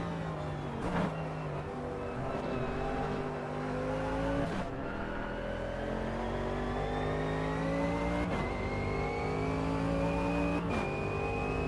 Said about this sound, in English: gotta go to Mercedes. One of the best sounding cars